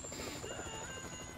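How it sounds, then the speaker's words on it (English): Helicopter during a video game heist, a steady throbbing rotor chop with a whining engine tone, continuous and moderately close for the whole moment. "Crazy that they had a chopper though, I didn't expect that."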